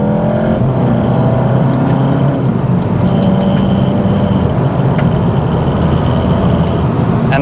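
A 2018 Volkswagen Golf GTI SE accelerates hard, breaking traction, with a loud steady engine roar and road noise heard from inside the car throughout.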